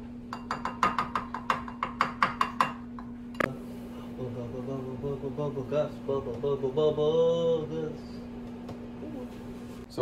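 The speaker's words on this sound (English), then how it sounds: "I melted the coconut oil and I put the maple syrup in, and we're just mixing it to combine" Melted coconut oil and maple syrup being whisked in a bowl, a quick run of metallic clinks that stops abruptly, with a steady hum underneath and a person talking over the rest.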